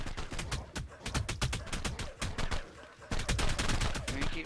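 Rapid bursts of turret gunfire from the video game ARK Survival Evolved rattle on continuously during an online raid, dense overlapping volleys with brief lulls.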